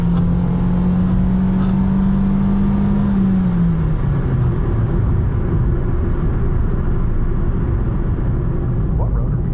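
Toyota Yaris engine droning steadily from inside the cabin while driving, a sustained low hum with a pitch that holds and then drops as the car shifts or eases off, loud and continuous throughout.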